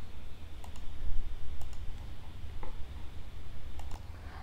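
Computer mouse clicks sound in sparse, sharp single and double taps over a low background hum, with no talking.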